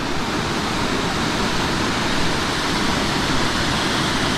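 Phu Nam Pha waterfall in Bueng Kan province at the end of the rainy season, a loud, unbroken roar of falling water close by, constant and broadband with no other sounds standing out.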